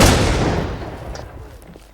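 A loud game explosion booms at the start, then a rumbling roar slowly fades over a couple of seconds.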